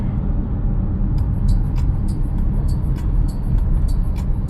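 A Volkswagen Touareg drives through city streets at about 60 km/h, giving a steady low road and engine rumble with faint ticking clicks overhead, heard from inside the cabin.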